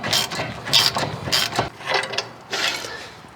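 A socket ratchet turns a nut on a brake stud of a 1970 Ford Mustang during a Wilwood disc brake conversion, with vice grips holding the stud; several bursts of close, loud clicking ratchet strokes.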